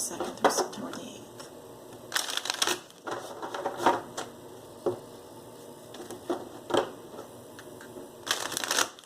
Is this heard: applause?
no